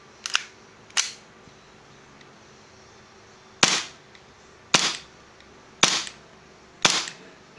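An airsoft gun fires single shots at a target, six sharp snapping cracks spaced irregularly over several seconds with quiet gaps between.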